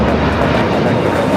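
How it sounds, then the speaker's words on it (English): A United Airlines A321neo bound for Denver takes off from LAX, a broad, steady engine roar filling the short stretch at constant loudness with no talk. "United Airlines 1729 taking off to Denver, Colorado on the A321neo"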